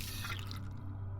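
Water trickling and dripping from a spout in the video game Observer, a brief close liquid patter over a low steady hum that thins out toward the end.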